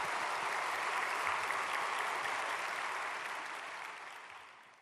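Steady applause from a crowd at a Korean prayer meeting for peaceful reunification, welcoming a speaker; the clapping is continuous and dense for several seconds, then slowly fades away without anyone speaking.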